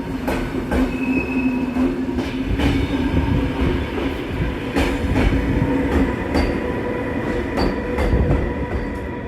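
A passenger train in Norway rumbles steadily from inside the carriage, with loud continuous rolling noise and regular clicks from the wheels passing over rail joints.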